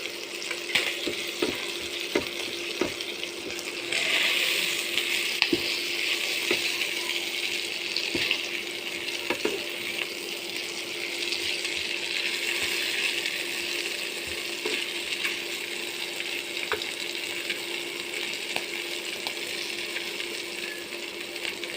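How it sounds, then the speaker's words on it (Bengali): Dry red chilies and bay leaves temper in hot oil for a Bengali eel curry with coconut milk, giving a steady close sizzle and crackle with a few sharp pops and spoon taps near the start. "এবার আমি দিয়ে দেবো শুকনো লঙ্কা তেজপাতা ফোড়ন দিয়ে দেবো"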